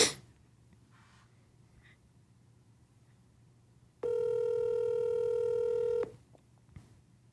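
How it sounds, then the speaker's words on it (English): In a quiet room, a phone line gives one steady ringback tone lasting about two seconds, heard through a handset, with faint clicks around it. "I'm about to call my neighbor. I hope he answer the phone."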